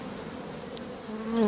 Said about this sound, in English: the bees are looking after it